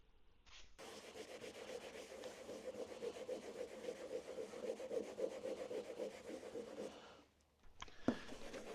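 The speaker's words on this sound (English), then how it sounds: "we'll give that a little scrub with the isopropyl" Cloth scrubbing a garage floor with isopropyl alcohol: faint, continuous rapid back-and-forth rubbing strokes for several seconds, stopping near the end with a brief knock.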